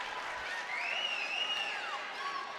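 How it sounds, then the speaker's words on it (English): Hopedale fans at a high school basketball semifinal cheer and roar steadily, a dense, sustained crowd noise with whistling and shouts rising through the middle. "Hopedale crowd loving it"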